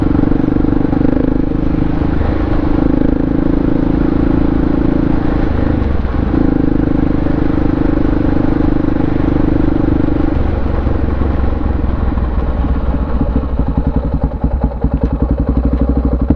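A Honda Shadow motorcycle on the road, its engine droning loud and steady with a sustained low hum and wind rush throughout, no speech over it.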